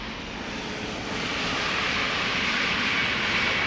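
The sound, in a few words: EasyJet Airbus A320neo airplane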